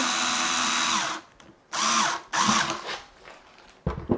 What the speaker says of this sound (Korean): 껍데기도 요 밑에 나사 구멍에다가 나사를 조여 주시면